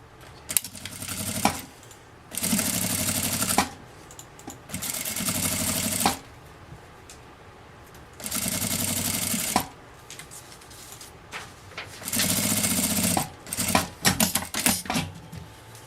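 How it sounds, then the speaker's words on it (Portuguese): A sewing machine with a presser foot runs seam after seam on a patchwork border for a cloth dish towel, five bursts of rapid stitching lasting one to two seconds each, separated by quiet pauses and small handling clicks. "E eu vou passar uma costura aqui com um pé de máquina."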